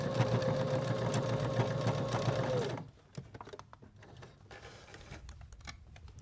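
A sewing machine stitches steadily around a small DIY sewing kit, a loud rapid whirring hum for nearly three seconds before stopping, followed by quieter handling clicks and rustles.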